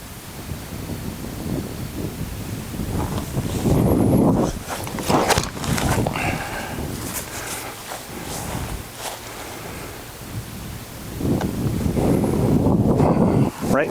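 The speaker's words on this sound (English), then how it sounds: "A little bit of a headwind." Headwind gusting across an open hillside golf course in Greenbriar, Arkansas, heard as steady broadband rumble and buffeting on the microphone that swells in bursts, with faint rustles and light movement beneath.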